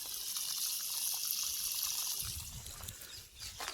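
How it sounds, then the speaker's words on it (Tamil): Water trickles and flows steadily through drip irrigation lines on a farm with melon crops, a continuous close hiss with some low rumble near the end. "இப்போ எல்லாமே சொட்டு நீர், தண்ணி பாஞ்சிட்ருக்குது"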